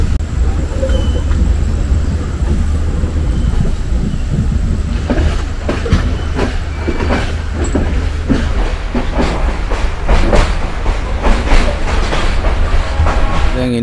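A passenger train runs on rails in Sri Lanka, giving a loud, continuous rumble with rhythmic clickety-clack wheel beats that grow denser in the second half, heard close from inside a carriage.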